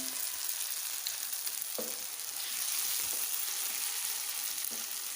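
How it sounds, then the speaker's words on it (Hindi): Boiled potatoes frying in a pan for aloo bhindi masala, a steady, fairly loud hiss of sizzling oil running throughout, with a few soft knocks from stirring. "चार मिनट तक भून लेते हैं।"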